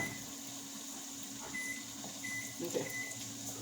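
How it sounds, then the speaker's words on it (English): A microwave oven humming faintly in a home kitchen while heating vegetables, a low steady drone with a few short beeps from button presses partway through. "Turn it 3 minutes on the microwave,"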